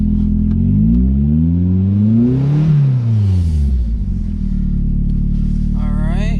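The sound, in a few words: Mazda Miata MX-5 engine idling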